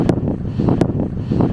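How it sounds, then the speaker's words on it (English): Strong gusting wind buffeting the microphone on an exposed fell summit, loud rumbling blasts that pulse in repeated surges over a short span. "this is definitely the most windy spot"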